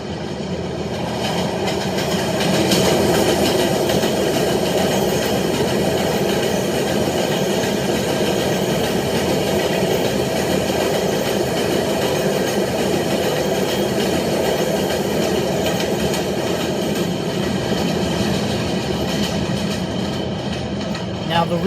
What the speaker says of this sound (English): Now the rhythm of the train, like it did some kind of like a rhythm pattern.